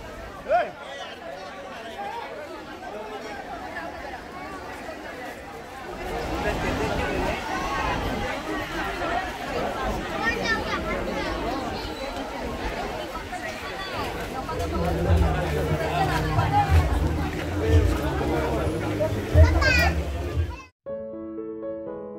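Crowd chatter and hubbub at a Sai Palkhi festival bhandara (community feast), a steady babble of many voices with some children, growing busier midway and cutting off abruptly near the end.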